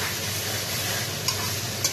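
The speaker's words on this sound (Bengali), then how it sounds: "রসুনটা দিয়ে দিলাম রসুনটা ভাজা ভাজা হবে" Garlic frying in hot oil in a pan while a sweet Fazli mango pickle is being made, giving a steady, close, dense sizzle with a couple of brief crackling pops and no voices.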